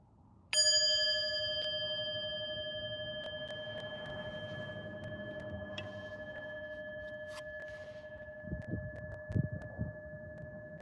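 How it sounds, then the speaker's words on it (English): A single clear bell strike rings out and decays slowly over several seconds, with faint low noise and a few soft bumps near the end. "Just ring the bell to start."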